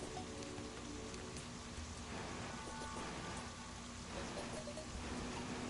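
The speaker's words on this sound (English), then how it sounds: "It's raining outside" Rain falling in the video game Terraria, a steady, dense hiss of rainfall that holds level throughout, fairly faint, with no voices.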